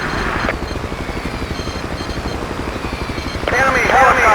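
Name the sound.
enemy helicopter in video game Battlefield 2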